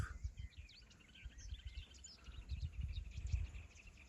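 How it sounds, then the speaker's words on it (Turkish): Faint, scattered chirps and tweets from several birds at a distance in Küçükelmalı nature park, Turkey, over low rumbling background noise outdoors. "Değişik değişik kuş sesleri var."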